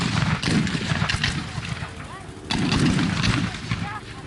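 Historical reenactors at a Sedgefield parade fire a musket volley that ripples down the line, a rolling string of overlapping sharp cracks in two dense bursts, loud and echoing outdoors, with a crowd murmuring underneath.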